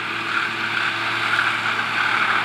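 A new Belarus MTZ-952.3 tractor engine runs with a steady, loud drone and even hum, working in an oat field with a RUS-2 chopper attachment; no voices.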